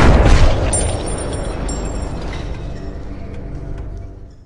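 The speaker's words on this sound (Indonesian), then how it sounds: "Dia pun menembakkan Harry dengan pistolnya sendiri." A pistol shot in a film rings out as a loud, close boom with a heavy low rumble that trails off slowly over several seconds.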